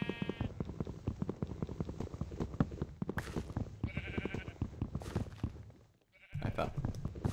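Repeated near Minecraft sheep baas, one quavering bleat after another with a brief pause toward the end, plus faint soft footstep-like clops mixed in.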